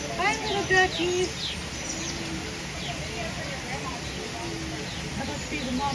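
Small ducklings chirp and peep in short high calls in an animal park enclosure, brief bursts near the start and scattered later, alongside people talking nearby.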